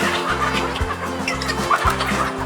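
Fifteen-week-old chickens in three-tier cages at a new poultry farm cluck in a repeated, rhythmic pattern. Several birds are close and clearly audible.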